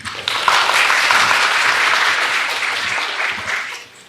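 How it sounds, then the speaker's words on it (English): A symposium audience at a national cancer center applauds warmly, a dense steady wash of clapping from many hands that holds for about four seconds before tapering off. "Please give him a warm round of applause again."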